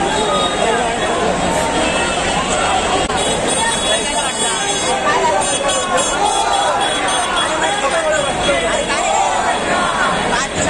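Dense crowd noise at a Mumbai Ganpati arrival procession in 2024, a continuous loud hubbub of many voices with steady mixed activity throughout, no single dominant sound.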